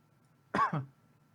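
A single short, rough cough, close by and alone against a quiet background.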